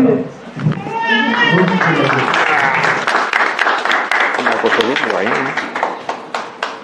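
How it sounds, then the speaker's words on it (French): Audience applause at an indoor presentation event for a young woman in green who runs the bar, a dense steady clapping wash that holds nearly throughout, with some voices and chatter mixed in. "Et puis vous pouvez l'applaudir."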